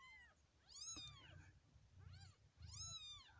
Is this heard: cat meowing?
yes